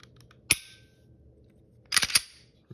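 Sharp mechanical clicks of a dry-fire trigger pull on an FN509 pistol fitted with an Apex trigger: one crisp snap, a pause, then a quick cluster of clicks as the trigger resets, close and quiet.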